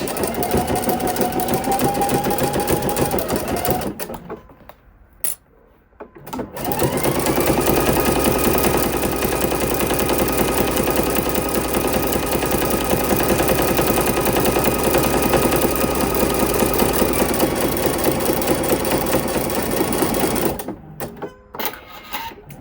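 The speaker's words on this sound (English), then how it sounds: "And we're going to do a little back stitch." A sewing machine stitches a satin-trim fleece blanket in a long, steady run, stops briefly, then resumes for a second extended stretch with a back stitch. The machine sounds close and loud throughout.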